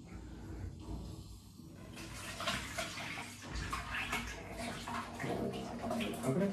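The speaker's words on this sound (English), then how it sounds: "I'm going to pour the eggnog into the pan because we're going to add quite a lot of milk." Eggnog poured from a container into a big pan makes a continuous liquid splashing and gurgling, faint at first and then building to a steady, fairly close pour.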